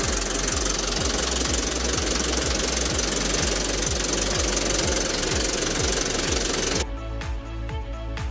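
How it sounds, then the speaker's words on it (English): A used agricultural tractor engine runs at a steady idle, with a loud, close, rhythmic diesel knock that stays even throughout and changes tone near the end, with no voices. "we can hear the tractor running to show it's in good working order"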